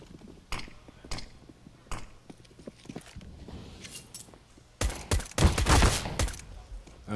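Gunshots in a Counter-Strike match at the ESL Pro League playoffs: scattered single shots early, then a loud burst of rapid gunfire near the end, close and punchy, with no talking.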